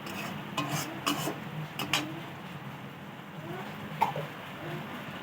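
Spices being stirred and fried for potol chingri, a pointed gourd and prawn curry, with soft scraping and clinking of a spoon against the pan over a faint low sizzle.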